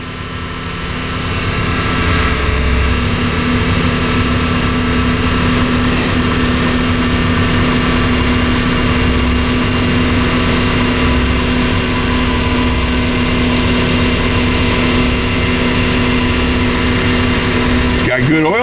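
A 1994 Chevrolet Impala's engine idles steadily after a cold start, a loud, even drone that swells in over the first couple of seconds and holds. Voices talk over it.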